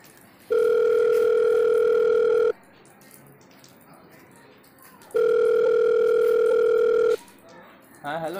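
A telephone ringback tone heard while placing a call: two long, steady electronic rings separated by a pause, loud and clear, with faint background noise between them.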